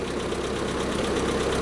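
Steady engine drone of a 1952 Ford 8N tractor running, continuous and fairly loud with a rough low rumble and no talk over it.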